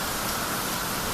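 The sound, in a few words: rain falling outdoors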